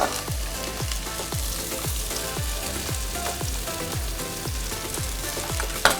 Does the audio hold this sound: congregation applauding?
no